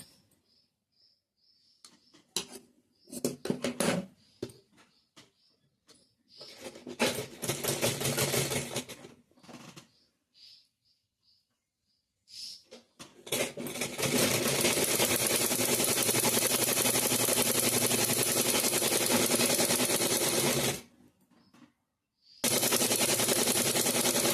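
A sewing machine stitches a button strip on a plain cotton blouse. It runs in short bursts of rapid mechanical rattling, then in one long steady run near the end, with quiet pauses between. No voices are heard.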